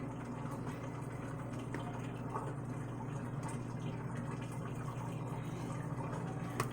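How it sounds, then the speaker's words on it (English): Lysol and water mixture being poured from a cup onto paper towels, a soft continuous trickle and splash of liquid over a low background hum, faint and even. "And we pour it up here and try to get the outskirts of it."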